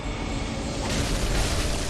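Heavy explosion sound effects in the video game Bloodborne, a loud dense roaring rumble that holds steady and thickens slightly after the first second, with no talk over it.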